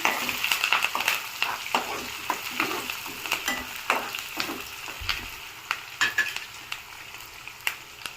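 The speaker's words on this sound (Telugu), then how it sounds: "ఇందులో ఆనియన్స్ వేసుకుందాము. కట్ చేసి పెట్టుకున్న గ్రీన్ చిల్లీ, కొంచెం కరివేపాకు, ఎండుమిర్చి వేసుకొని ఒకసారి మిక్స్ చేసుకుందాము." Onions, green chili, curry leaves and dry chili fry in a pan for a potato, carrot and capsicum masala curry, giving a loud, close, continuous sizzle broken by frequent quick stirring scrapes, with no voices.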